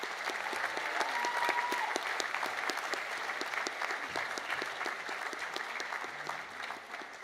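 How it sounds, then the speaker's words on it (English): Steady applause from an audience at a Greater Shepparton volunteer recognition awards evening, dense clapping sustained throughout at an even level. "Let's give them and everyone who volunteer another round of applause."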